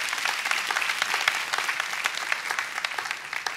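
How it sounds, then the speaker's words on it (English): Applause from a church congregation fills the room, a dense steady wash of many hands clapping at close range with no talking over it. "Can you give the Lord a big hand clap to that"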